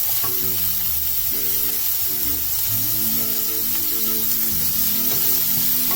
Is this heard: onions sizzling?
yes